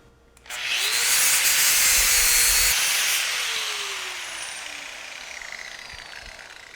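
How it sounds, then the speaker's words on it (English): An angle grinder fitted with a Klingspor 950 Titan disc grinds a weld, starting abruptly into a loud, steady, high-pitched abrasive whine that holds for a couple of seconds and then gradually eases and thins out. "So just pay attention to the degrees that I'm holding the angle grinder at, and take a look at the finish."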